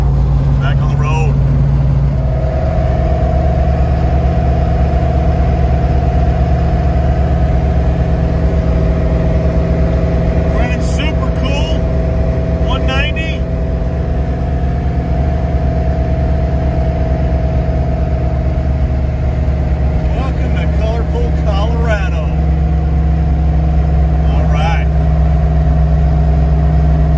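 A car fitted with a new Whipple supercharger cruises along a road on a trip to Colorado, its engine droning steadily and loudly throughout with a constant tonal hum, with faint brief squeaks at moments.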